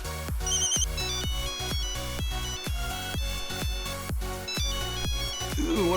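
A video game mod's phone ringtone plays a steady looping electronic melody of plucked synth notes with chiming overtones, loud and upfront, alone without speech.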